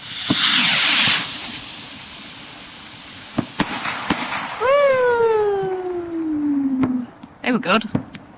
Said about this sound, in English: See Peter lighting up the next firework.